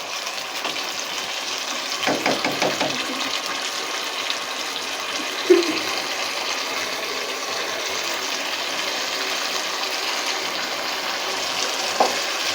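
Onions for chicken korma fry and sizzle in a pan over high heat, with a steady crackling hiss and intermittent scraping and clanking as they are stirred continuously.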